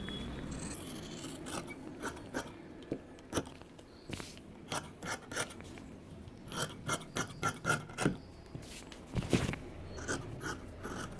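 Blouse fabric being cut, with a run of short, crisp snipping and rasping strokes coming in uneven clusters, close up and fairly quiet with no voices.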